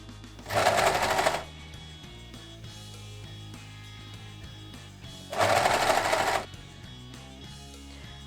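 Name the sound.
sewing machine stitching sleeve onto cuff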